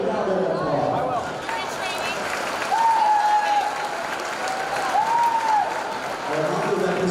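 A basketball gym crowd at a high school game applauds the returning alumni, steady clapping filling the hall at moderate distance for several seconds, with a couple of brief whistle-like tones over it.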